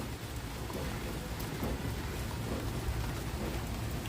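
Steady heavy rain pours down in a thunderstorm, with rolling thunder rumbling beneath a dense, even hiss of falling water, heard outdoors near a banana tree.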